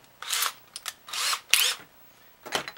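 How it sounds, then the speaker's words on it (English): Power drill fitted with a 3/8 drill bit, several short whining bursts of varying length with gaps between, close and fairly loud. "we're going to chuck in our 3/8 drill bit"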